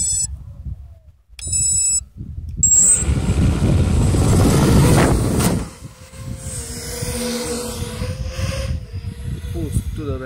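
A drone flies outdoors on mixed two-bladed 6040 and three-bladed 5042 propellers. A few short electronic beeps come first, then a loud, rushing propeller whir that rises and settles into a steady, shifting motor drone.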